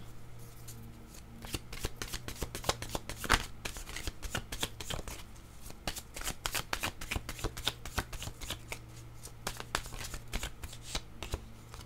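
A deck of oracle cards is shuffled over and over, with crisp rapid riffling and flicking clatter running through the whole stretch, close and fairly quiet, over a steady low hum and no voices.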